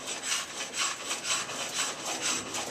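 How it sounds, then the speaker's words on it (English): A hand scraper finishes the back of an Osage orange bow stave, rhythmic rasping wood strokes about twice per second, close and steady, alone without talk. "Get the scraper now, finish it off."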